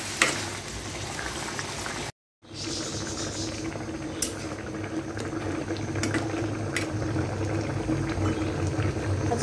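Rice boils in a pot with a steady bubbling, rolling simmer that briefly cuts out, then continues evenly with a few light clicks and taps nearby.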